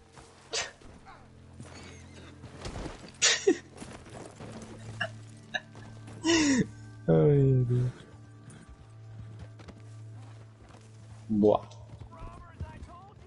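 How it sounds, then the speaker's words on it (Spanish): A horse approaches along a path, its hooves clip-clopping in a loose irregular rhythm under frequent outdoor talk and a few sharp vocal sounds. "Vale. Viene el caballo."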